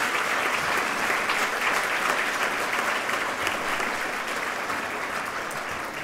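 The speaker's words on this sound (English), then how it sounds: "Ladies and gentlemen, please, a round of applause for this year's recipients" An audience at the 2012 York University Bryden Award ceremony applauds the recipients with continuous, even clapping at moderate loudness that holds steady and eases slightly at the end.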